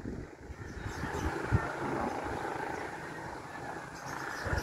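Strong wind blowing outdoors near a pigeon loft, a steady broadband rush with gusty buffeting against the microphone, continuous and fairly loud, no talk.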